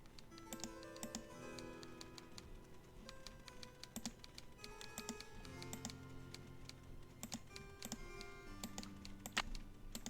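Keyboard typing in the Nancy Drew game Treasure in the Royal Tower: a steady, fast patter of small clicks running throughout, soft and close, with gentle musical tones sustained underneath.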